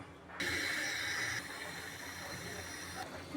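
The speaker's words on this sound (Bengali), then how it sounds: "এখন আমি চুলা জ্বালিয়ে দিব" A gas stove is lit: a steady gas hiss starts abruptly, with a brighter high-pitched tone for the first second before settling into a continuous rushing hiss.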